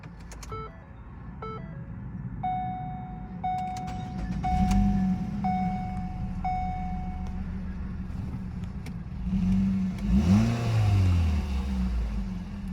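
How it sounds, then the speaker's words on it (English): A 2016 Ford Escape SE is started from inside the cabin: a series of steady electronic key chimes comes first, then the engine cranks and catches with a rising rev before settling into a smooth, even idle. "Let's go ahead, fire this one up."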